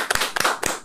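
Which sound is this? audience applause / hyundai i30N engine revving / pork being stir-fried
audience applause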